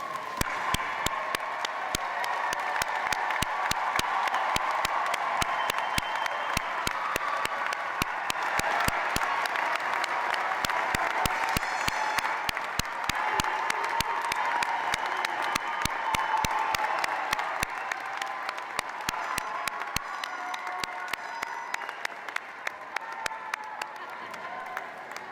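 A large audience at a Hofstra University graduate commencement applauds steadily for a long stretch, a dense roomy wash of clapping with scattered cheers and murmuring voices.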